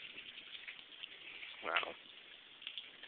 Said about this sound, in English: Look at all that rain just come down right now.